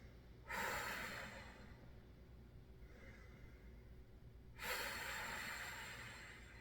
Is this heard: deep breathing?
yes